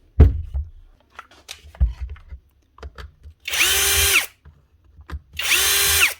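Power tool unscrewing screws during a repair, two loud whirring bursts of about a second each, close up, separated by scattered clicks and handling knocks on the workbench.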